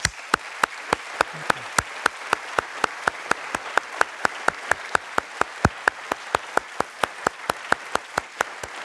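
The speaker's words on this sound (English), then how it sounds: "Let's give these folks a round of applause." Congregation applause for scouts standing in a church: sharp, evenly spaced claps ring out close and loud in a steady rhythm for nearly nine seconds over a faint wash of softer clapping.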